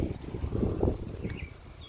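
Gusty wind buffets the microphone in a June vegetable garden, a low rushing roar swelling and fading over two seconds.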